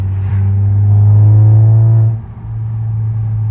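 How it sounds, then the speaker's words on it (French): A deep, loud Audi S3 engine rumble swells as the throttle is blipped, the exhaust droning with rising resonance before dropping back to a steady idle. "tu mets un coup de gaz et ça résonne partout"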